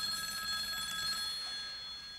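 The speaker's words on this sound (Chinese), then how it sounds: "藤井啊，我不是不接你电话" A telephone rings with a steady, bright metallic trill that keeps going for a couple of seconds at moderate loudness, with nobody speaking over it.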